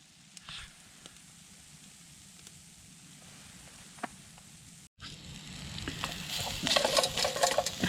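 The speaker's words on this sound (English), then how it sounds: "just frying off some bacon, broccoli and green beans and mushrooms" Steady sizzling of bacon, broccoli, green beans and mushrooms frying in a pan at a winter campsite, with occasional clinks and stirring; the sizzle grows louder and busier after a brief cut.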